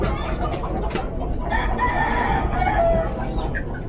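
A chicken clucks and crows a few times at moderate distance, over steady background noise.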